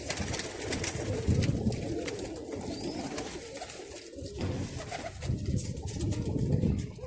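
Pigeons coo in low, repeated throaty calls, close and steady against a noisy outdoor background, with no talking.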